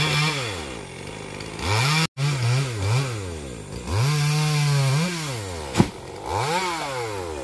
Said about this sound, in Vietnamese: Đây cưa thêm một cây sao.